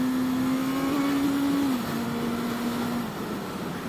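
A Honda CB650F inline-four motorcycle engine held at high RPM, a steady loud whine that drops slightly in pitch partway through, heard alone without talk.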